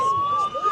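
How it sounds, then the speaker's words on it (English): Emergency vehicle sirens wail outside the White House during a protest in DC, a steady high tone with wavering overtones, distant but clear. "we got sirens"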